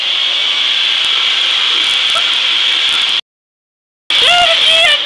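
A leaf blower aimed at a person's face makes a loud, close, steady rushing hiss for about three seconds. It cuts out briefly, then starts again with a voice heard over the roar.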